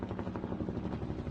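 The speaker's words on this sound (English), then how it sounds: "You hear that chopper?" A helicopter passes overhead, its rotor producing a steady low rhythmic thudding chop with broadband engine rumble, distant and faint, continuous throughout with no speech.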